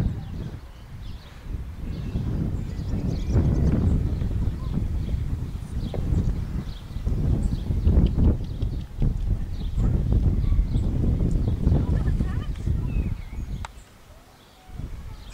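Free-roaming horses walk near Ogmore Castle, their hooves making soft, irregular clip-clop thuds close by, with rustling and light wind in the background.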